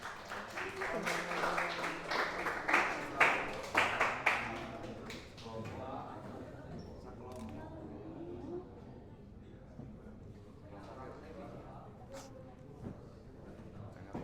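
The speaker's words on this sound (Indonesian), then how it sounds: "Tepuk tangan untuk temannya." Students applaud a classmate in a classroom: a burst of scattered hand clapping for about five seconds that thins out and gives way to quieter room noise and talk.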